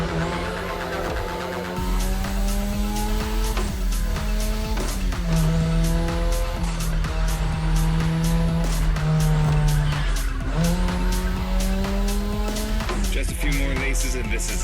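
Racing car in The Crew Motorfest revving hard through gear changes with tire squeal and skidding, engine loud and continuous under background game music.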